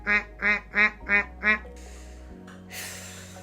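A person imitates a duck with five loud, evenly spaced nasal quacks from their own voice, trying to sound as realistic as possible, followed by a brief rustle and softer noise.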